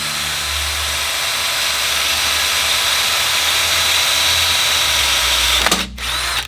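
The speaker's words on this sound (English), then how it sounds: "we're going to drill a little hole right in the center" A loud, steady power drill whirs continuously for several seconds while drilling a hole in an engine block oil galley plug, then spins down with a brief clatter near the end.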